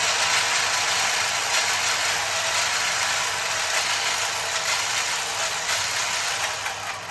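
The motor of an RC drift car runs at high pitch in 3S boost mode, giving a loud, steady, buzzing whine that holds for several seconds with a slight mechanical rattle and no speech.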